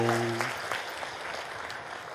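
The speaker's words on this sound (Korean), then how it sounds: "우리 다시 한번 크게 격려 박수 합시다" A church congregation at a Sunday worship service claps in encouragement for a member coming up to share; the clapping is moderate and continuous, and a brief tone or hum fades out in the first half-second.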